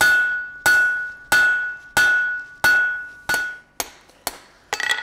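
A blacksmith's hammer strikes a steel punch on the anvil about eight times in a steady rhythm. Each blow rings sharply and loudly, and the final few come lighter and quicker.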